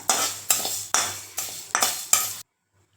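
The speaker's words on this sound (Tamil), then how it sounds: "இது நல்லா மிக்ஸ் பண்ணிக்கலாம் கேஸ் ஸ்லோவாக வைங்க ஹை ஃப்ளேமில் வச்சிங்கன்னா கரிஞ்சிரும் இது நல்லா வறுப்படட்டோங்க" Rice, coriander seeds and pepper stir-roasted dry in a pan on a low flame, six evenly spaced scraping strokes of a spoon against the metal, close and crisp, then abrupt silence.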